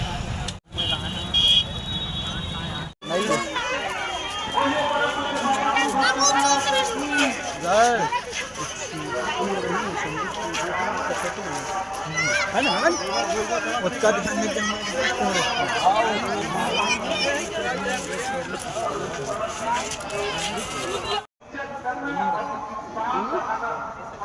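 A large crowd chatters and mills around at Lalpur Dham temple, a dense continuous hubbub of many voices with some passing traffic, while a nearby voice talks over it.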